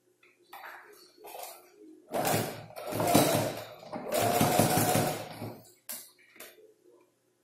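Domestic sewing machine stitching a fabric wallet, short bursts then two longer runs of rapid mechanical chatter, close and moderately loud, with small handling clicks in the gaps.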